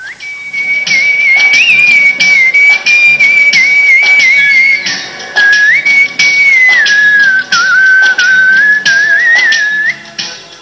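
A person whistles a continuous melody, loud and close, with short pauses between phrases and no talking.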